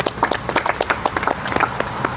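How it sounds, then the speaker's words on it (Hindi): An audience claps in a short, scattered burst at a treatment feedback session, with quick uneven hand claps at moderate volume. "ताली बजाइए भाई के लिए"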